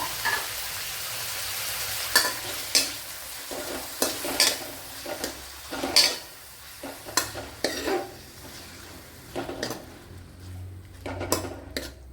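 Tomatoes and green chillies frying in coconut oil in a pan for tomato curry, with soft sizzling under repeated scraping and clinking of a spoon stirring against the pan.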